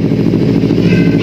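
A Kawasaki Ninja 250 cc motorcycle engine runs close by with a dense, steady low rumble and throbbing exhaust note, loud and continuous throughout the short stretch.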